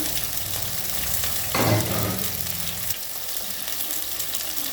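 Tomato and green chillies sizzling in hot oil in a pan, with a brief scraping stir partway through, a steady close frying hiss throughout and no talking.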